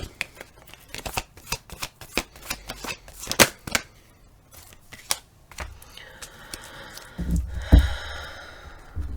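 Tarot cards riffled and snapped in quick crisp bursts close by during a reading, followed by a few softer slides and a heavier thump as a final card is drawn and laid down.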